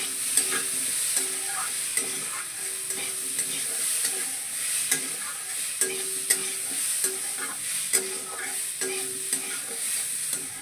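Food fries in a pan with a steady sizzle while a utensil stirs and scrapes it in repeated sharp clacks, close and moderately loud, with no one talking.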